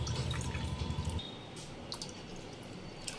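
Water from a cup pours into strained mango pulp while making mango frooti at home, a steady splashing trickle for about a second, then settling into quieter liquid sloshing and faint drips nearby.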